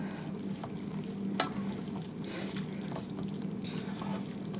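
Noodles soaking up broth in a pan alongside shrimp for a low-carb Nicaraguan-style chop suey are mixed, giving a soft continuous sizzle with wet scraping and faint clicks of the utensil, heard close with no talking.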